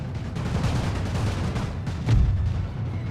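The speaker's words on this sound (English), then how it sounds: "These light howitzers, yeah, they're good" Light howitzer artillery fire in a German Empire strategy video game, a dull rumbling barrage of distant booms under steady battle noise, with one heavier thud near the end.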